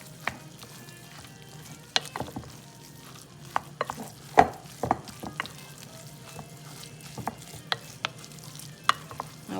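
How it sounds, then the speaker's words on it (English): Meatloaf mixture being worked together in a bowl makes repeated wet squelches and soft knocks in an uneven rhythm, close and fairly quiet, with no talk. "Okay, mix it all up together."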